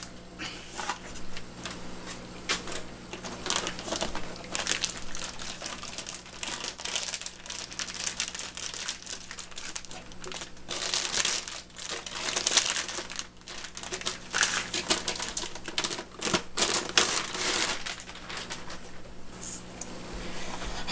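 Packaging for a Hifonics Titan car amplifier crinkled and rustled continuously at close range during an unboxing, with irregular crackles and sharp crunches and no talking.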